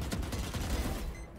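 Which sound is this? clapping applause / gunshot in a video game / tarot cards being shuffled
gunshot in a video game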